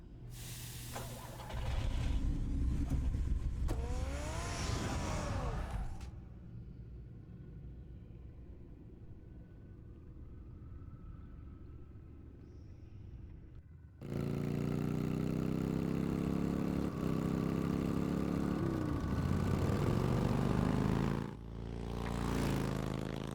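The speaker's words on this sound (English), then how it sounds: "Get the car ready, Alfred" Batman's car engine in a video game, a deep revving rumble that surges, drops away to a quiet idle hum, then returns loud and sustained before a final swell.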